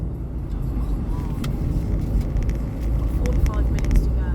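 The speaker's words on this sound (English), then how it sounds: "Traffic." Road traffic rumbles in a low, steady drone that swells slightly as a vehicle passes near the end, heard from inside a car, with a few clicks and some voices talking alongside.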